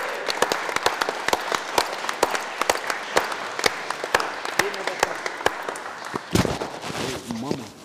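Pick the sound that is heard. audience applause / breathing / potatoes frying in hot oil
audience applause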